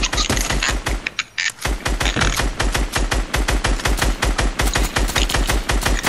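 Rapid automatic gunfire in a Fortnite match, loud and close, firing in quick bursts with a brief pause early on before the shots resume in a steady stream.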